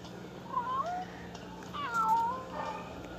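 Two short cartoonish cat meows from a Toca Boca video game ring out about a second apart, fairly quiet over faint background noise.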